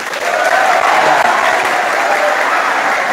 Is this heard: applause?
yes